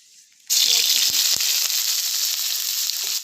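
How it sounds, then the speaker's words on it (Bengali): Onions dropped into hot oil in a wok burst into a loud, close hiss that starts abruptly and holds steady, with a few soft knocks from the pan. "তেলটা গরম হয়ে গেছে, তেলের মধ্যে পেঁয়াজ দিয়ে দেবো।"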